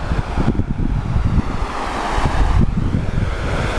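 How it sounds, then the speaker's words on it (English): Water pouring over Cotterstock Weir on the river, a steady, dense rushing roar that fills the whole clip at an even level, with no voices. "we've arrived at the delightful Cotterstock Weir"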